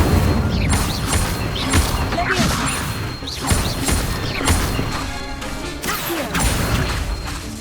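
Fire spells cast repeatedly in Hogwarts Legacy make loud, dense booming bursts and crackling crashes one after another, with a continuous roar of game sound throughout.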